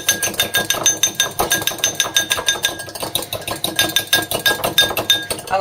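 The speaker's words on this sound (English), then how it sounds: "Just going to give it a quick whisk." An egg being whisked for egg wash, a rapid rhythmic clinking and tapping of a whisk against a bowl, close and steady throughout.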